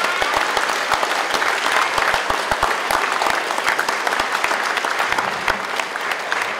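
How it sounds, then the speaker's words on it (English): Loud, dense applause from a large audience at a 2019 Wikwemikong graduation ceremony honoring award and bursary recipients, sustained and even for several seconds with sharp individual claps throughout. "A big round of applause for everybody picking up those special awards and bursaries."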